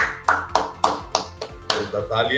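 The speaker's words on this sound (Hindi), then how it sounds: "तालियां." About six sharp, separate claps ring out at a steady, unhurried pace at a women's award ceremony and interaction event held by Bank of Baroda. They sound close and distinct rather than like a full crowd's roar.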